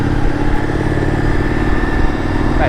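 Indian FTR x RSD Super Hooligan motorcycle engine running close by, a loud, steady mid-pitched idle with a slight mechanical clatter and no talk over it.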